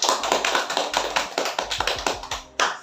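A small group claps for a classmate named Fauzi in a group guidance class, a short round of quick, uneven hand claps at close range with no talking.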